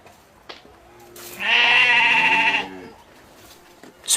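Sheep and goats bleat in a village, one loud, wavering, drawn-out bleat of roughly a second close by, with fainter thin calls before and after.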